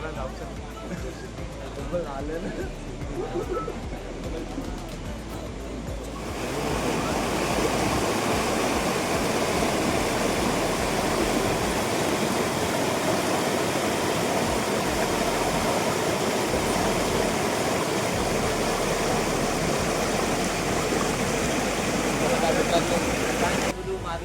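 Marleshwar waterfall in Maharashtra roars loud and steady, its rushing noise swelling after a few seconds and filling the scene without pause.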